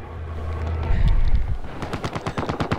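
Bursts of rapid automatic gunfire in a video game, shots aimed at a helicopter, starting with heavy booms and then a fast rattling string of shots, fairly close and loud.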